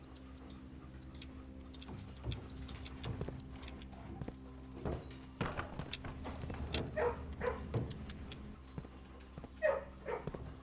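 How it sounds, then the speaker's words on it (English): Dogs in the video game Blue Prince, soft scattered barks and yips, fairly faint, over a steady low ambient hum with a faint ticking clock. "Oh, I can pet the dogs. You can just hear it"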